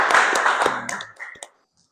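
Brief applause from a university lecture audience: a dense patter of hands that thins into a few scattered claps and ends abruptly after about a second and a half.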